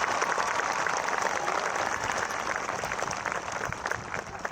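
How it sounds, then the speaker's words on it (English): An audience at a high school graduation applauds a speaker being introduced, producing a dense, steady wash of clapping that holds at an even level throughout, with light crowd murmur mixed in. "please give me a big round of applause for Pal Patel"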